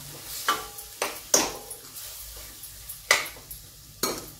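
Spiced bottle gourd is sautéed in a pan. A spatula clanks sharply against the metal several times over a faint background sizzle. Nearby, no voices.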